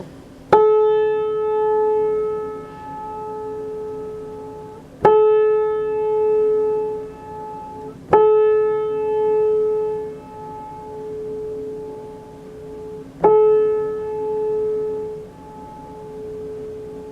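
On an old upright piano after a loose tuning pin repair, the A key is struck four times, several seconds apart. Each note rings clear and steady, then slowly fades.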